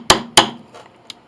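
Two sharp metallic hammer strikes close up on the tuning pins of an 1881 Steinway Model A piano, each ringing briefly, followed by two fainter taps.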